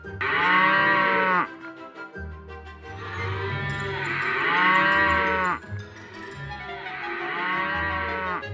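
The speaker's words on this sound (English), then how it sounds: "What are the cows doing here?" Cows that got loose and wandered in on a wedding moo three times, each a long, loud, drawn-out low call with short pauses between, close by and heard alone.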